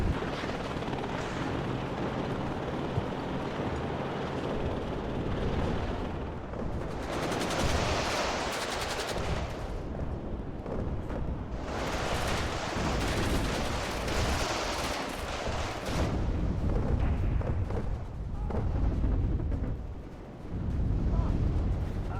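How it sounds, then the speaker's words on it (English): An artillery barrage in the video game WARNO, with dense rumbling explosions and crackling gunfire that swell and fade in waves, loud and continuous, while someone talks over parts of it. "So they're just now dropping artillery."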